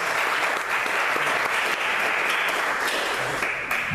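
A church congregation applauds in a dense, sustained wave of clapping that stays loud and even for several seconds before thinning slightly at the end.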